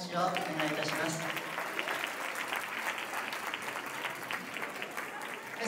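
Sustained audience applause fills a hall for amateur Latin American dance semi-finalists at the Tokyo Dance Championship, dense and even from start to finish, with a voice briefly heard at the opening.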